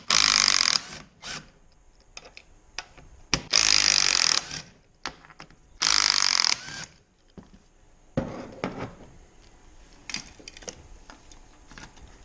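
A ratchet backs T30 Torx screws out of a 2014 Mustang steering wheel, giving loud bursts of fast clicking in short runs with quiet gaps between them, followed by softer scattered clicks and handling noises.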